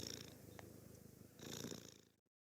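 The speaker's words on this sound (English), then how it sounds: "Oh, lovely cat." A cat purrs close by in a steady, soft rumbling flow that swells briefly near the end before cutting to silence.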